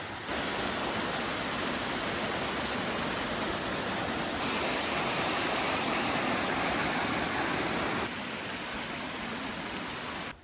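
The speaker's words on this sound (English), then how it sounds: "I didn't think I'd get a waterfall being here in New Mexico." A waterfall near Nambe Lake in the New Mexico mountains roars as a loud, steady, broadband rush that holds for about ten seconds with no talking.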